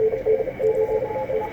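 Morse code carrier tones keyed on and off in quick dots and dashes on the 20 meter amateur radio band during a CW contest weekend, a steady mid-pitched beeping over receiver hiss.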